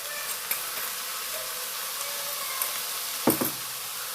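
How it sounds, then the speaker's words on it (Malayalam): Chayamansa leaves frying in a pan, with a soft, even sizzle and a few faint scrapes and knocks as they are stirred, close and quiet with no talking. "നന്നായി ഇളക്കി കൊടുക്കാം."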